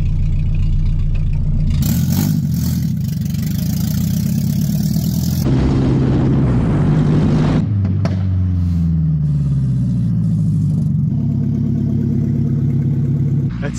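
A Nissan 300ZX KA engine runs with no exhaust attached, loud and raw throughout, with steady idle stretches broken by sharp revs and falling pitch sweeps as it settles back down.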